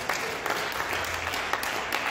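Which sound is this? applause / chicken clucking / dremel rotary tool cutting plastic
applause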